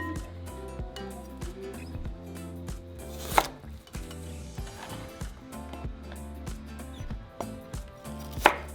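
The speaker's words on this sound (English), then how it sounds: "And just cut the onion however you want to eat your onions." Knife chopping an onion on a cutting board for a macaroni and tuna salad, a rapid run of close, crisp cuts under steady background music, with a couple of louder knocks.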